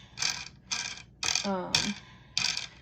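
Wing nuts being loosened on a cheese press, five short metallic ratcheting and grinding bursts separated by brief pauses, close and fairly quiet.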